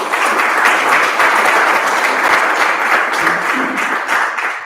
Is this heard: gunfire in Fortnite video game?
no